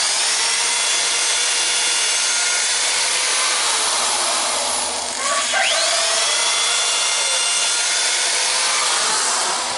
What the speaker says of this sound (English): I'm going to pre-drill my holes just like he pre-drilled them, but I'm going to go through 7 boards at once